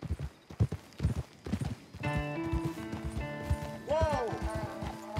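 Horse hooves clip-clop in the video game Red Dead Redemption 2, a run of distinct close thuds that slows down as a horse whinnies and someone speaks over the steps.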